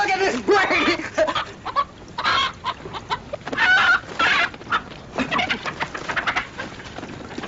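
A chicken clucks repeatedly and close by in uneven bursts, with occasional louder squawks, some of them crow-like, over a quiet background.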